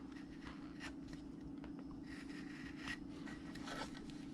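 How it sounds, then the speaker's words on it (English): A V-tool cutting a hairline into a carved wooden Santa from a bandsaw blank, giving faint, soft scraping strokes over a steady low hum. "I'm going to take my V-tool and I'm going to cut in my hairline."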